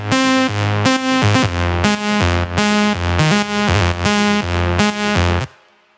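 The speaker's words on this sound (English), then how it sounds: "So what I started with was these chords and this lead." Loud synth chords and a bright lead from a remix drop play in a steady rhythmic pattern of sustained, pulsing hits before cutting off abruptly, with no voices.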